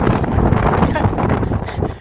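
Strong wind gusts during snowfall buffet the microphone, a rough, roaring wash of noise that stays loud and unbroken throughout.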